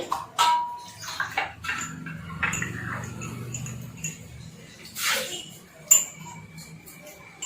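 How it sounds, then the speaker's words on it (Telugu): Split moong dal (green gram) being washed in water by hand in a kitchen, with intermittent splashes, swishes and clicks of grains and a vessel, close and uneven, with brief bursts of movement between quieter moments. "దీన్ని కొంచెం వాటర్తో కడిగేయాలి."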